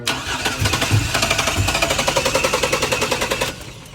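A bagged Chevy S10 mini truck that sat for four and a half years cranks with a fast, rhythmic starter chatter for about three seconds, then its engine catches loud and close before the sound cuts off.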